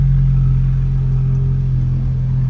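A Volkswagen Jetta TSI 2.0 fitted with an exhaust diffuser idles around 1,100 rpm, giving a loud, steady, deep droning hum with no talking.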